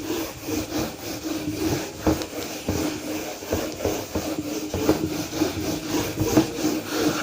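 A board in a maths classroom being wiped clean with a continuous back-and-forth scrubbing that swells in rhythmic strokes, loud and close, with no voices.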